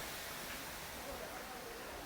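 Steady, dense rushing of a waterfall, a continuous broadband roar with no variation throughout.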